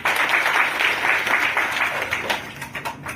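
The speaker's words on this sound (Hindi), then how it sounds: "वृद्ध माताओं के लिए जो है जोरदार तालियां हो जाएंगी" Loud applause at a village women's group gathering honoring elderly mothers, a dense burst of clapping that stays strong, then thins into scattered claps toward the end.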